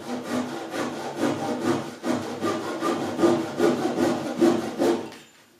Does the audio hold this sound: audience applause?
no